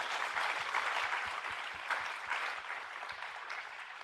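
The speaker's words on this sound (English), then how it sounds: "Do give a round of applause to our wonderful panel." Applause for a panel at a biodiversity measurement conference, a fairly quiet but steady spread of clapping from many hands that eases slightly toward the end.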